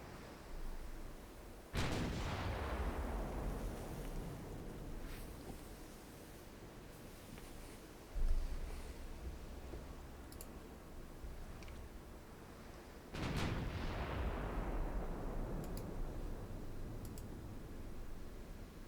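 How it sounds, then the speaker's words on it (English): Warship guns in Ultimate Admiral Dreadnoughts fire a full broadside: two heavy booming salvos several seconds apart, each a loud blast with a long rumbling decay, plus a smaller thud between them. "Full broadside."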